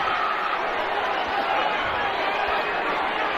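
Boxing arena crowd cheering for the title holder from Maryland, a loud, sustained roar of many voices at fight night, filling the space evenly without letup.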